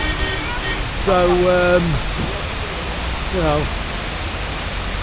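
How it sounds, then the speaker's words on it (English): A waterfall rushes as a steady, even roar of falling water, with someone talking briefly over it. "here's a fantastic waterfall"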